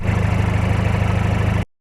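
A car engine idles with a deep, throaty rumble through a 2.5-inch straight-through exhaust, steady and close, cutting off abruptly.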